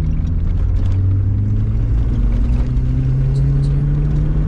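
Carbureted Golf 2 engine with a small turbo, in second gear, droning loudly as it accelerates, its steady rumble climbing gradually in pitch under faint background voices.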